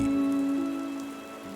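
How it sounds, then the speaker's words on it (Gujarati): Steady rain patters on a surface beneath a sustained musical tone, with no voices. "મીનુ ચકલી તું આ બચ્ચાઓ સાથે આટલા વરસાદમાં ક્યાં નીકળી છે"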